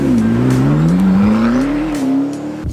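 A McLaren P1 HDK hypercar rolls past at car week, its engine holding a loud, smooth droning note that rises slightly and then eases off. The sound is close and no one speaks.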